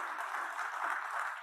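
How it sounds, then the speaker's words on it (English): Audience applause at the closing ceremony of the Caribbean Investment Summit in Barbados, a steady, dense wash of clapping that holds at an even level throughout, fairly distant and soft. "I want you to applaud yourselves for having done this"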